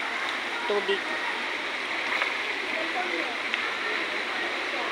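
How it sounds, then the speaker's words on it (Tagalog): Steady rushing of flowing water from a stream, continuous and fairly loud, with faint voices in the background. "Ilog."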